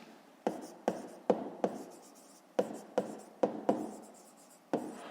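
Pen writing in a notebook during a fifth-grade math lesson, heard as eight or nine sharp, close scratching strokes in short bursts with brief pauses between them and no talk.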